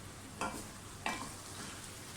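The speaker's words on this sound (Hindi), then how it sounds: "मैं इसकी थोड़ी सी भुनाई करूँगी।" Potatoes with fenugreek leaves and coriander frying in oil in a pan, a steady low sizzle with two brief stirring scrapes, close and alone.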